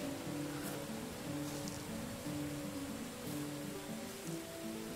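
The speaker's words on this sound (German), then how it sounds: "Schön, dass aber gerade regnet." Steady rain falls in the medieval farming game Medieval Dynasty, a soft continuous hiss spread evenly beneath gentle background music, with no one talking.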